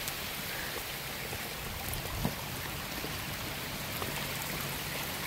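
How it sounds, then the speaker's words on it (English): Storm water pours steadily out of a French drain built with two perforated pipes, a continuous splashing rush with no pauses or talk, moderately loud and close. "Look at all that water coming out. And that's just French drain."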